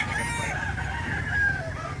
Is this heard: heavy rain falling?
no